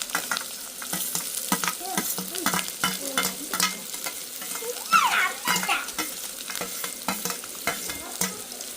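Onions and green chillies sauté in oil with a steady close sizzle, punctuated by frequent scraping stirs of a spatula in the pan, while faint background voices come through now and then.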